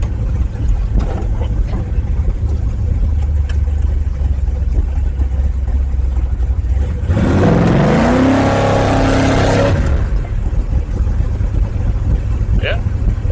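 A 1955 Chevy with a big block engine roars into hard acceleration for a few seconds as its tires lose traction and spin, over steady low road rumble. The engine then drops back.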